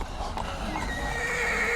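A horse neighs and its hooves clip-clop steadily in a scene from The Walking Dead, the whinny rising clear over a continuous dense background of soundtrack noise.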